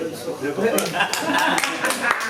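An audience at an evening spoken-word gathering claps for two performing artists, the sharp hand claps scattered and fairly close, mixed in with ongoing talk.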